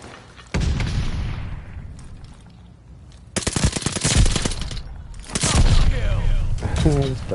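Bursts of rapid gunfire from a gun in a video game, loud and close, with several volleys separated by brief pauses and a voice talking over parts of it.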